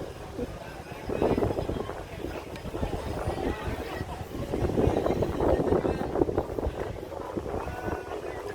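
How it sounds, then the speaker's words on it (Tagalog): Strong wind at a beach resort in Bohol, Philippines buffets the microphone in a steady low roar with gusting surges, and people talk underneath it. "Sobrang hangin."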